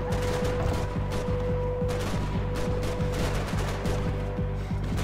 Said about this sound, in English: then I have to start shooting the police